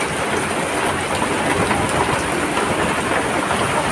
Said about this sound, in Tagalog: kahit na napakalakas ng pagulan